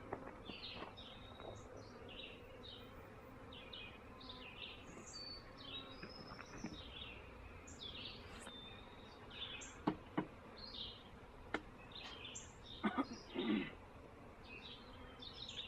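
A honey bee swarm buzzes faintly and steadily as a constant drone, with bird chirps scattered above it and a few soft knocks near the end.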